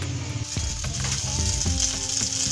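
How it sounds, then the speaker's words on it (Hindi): Chicken shami kababs frying in a pan, a constant close hiss and crackle of hot oil with a few light scrapes and clicks, no voices. "अब इस साइड से हमने अच्छी तरीके से फ्राई कर लेना है"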